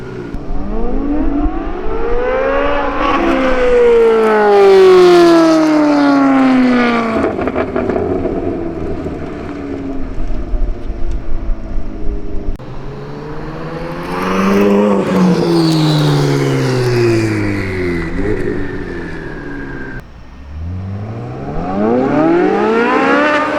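A twin-turbo Chevrolet C8 Corvette Z06 revs hard through several gears, its engine pitch climbing and falling in repeated sweeping runs, loud and close, with brief lulls between pulls and no talk.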